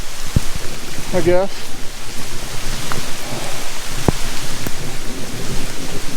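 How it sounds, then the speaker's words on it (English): Outdoor rain with thunder in woods during deer-season preparation: a steady, loud rain hiss with low thunder rumbles and a couple of sharp knocks, while someone speaks briefly. "It started raining again"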